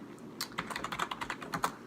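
A password is typed on a computer keyboard: a quick run of about a dozen close, light key clicks in an uneven rhythm, with no voices.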